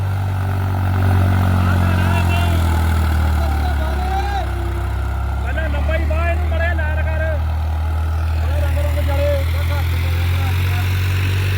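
A New Holland 3630 4x4 Super Plus tractor engine runs with a steady, loud low rumble throughout, while someone talks over it.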